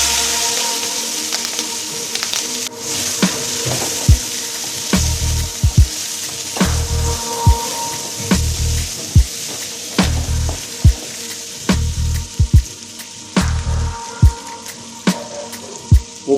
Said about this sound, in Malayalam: കട്ട് ചെയ്ത് വെച്ചിരിക്കുന്ന മുളക് ഇഞ്ചി ഇട്ട് കൊടുക്കാം.